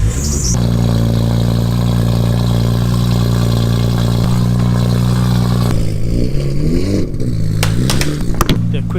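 A loud car engine, one of several Japanese performance cars including a Skyline, S14, Supra and Evo, catches and settles into a deep, strong idle near the microphone, then swells in a few uneven revs toward the end.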